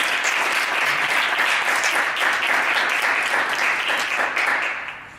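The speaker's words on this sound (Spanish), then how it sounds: "un gran aplauso para Ricardo Sánchez." A seated audience at a Book Day talk on the history of magic in Spain gives a warm round of applause for the presenter, steady dense clapping that gradually thins and fades near the end.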